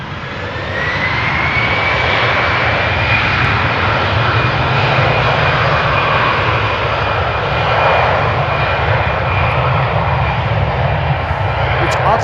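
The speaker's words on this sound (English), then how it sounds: "another ITA Airways is taking off over here" An ITA Airways airliner takes off at Amsterdam Schiphol Airport, its engines a loud, steady broadband roar that holds throughout, with a faint rising whine on top.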